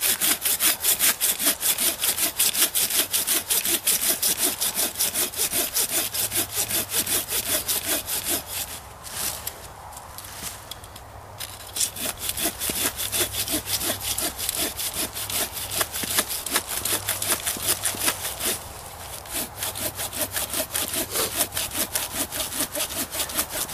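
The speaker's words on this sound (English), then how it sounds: "Y'all could hear me sawing." Steady back-and-forth strokes of a bushcraft hand saw cutting through wood, rhythmic and close, with a brief pause midway before the sawing resumes.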